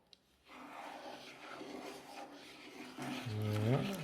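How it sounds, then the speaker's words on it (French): Homemade non-toxic play dough stirred vigorously as water is added, a steady close rubbing, rasping churn that thickens toward the end, where a voice briefly sounds. "Continue à mélanger et moi je rajoute l'eau petit à petit. Voilà, mélange bien, abuse vigoureusement."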